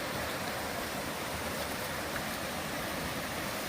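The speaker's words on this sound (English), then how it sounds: "I'm coming up on Comer Creek Falls as I fall, and I'll flip the camera so you can see the waterfall." Steady, dense rushing of falling water from Comer Creek Falls, constant and unbroken throughout, heard from nearby.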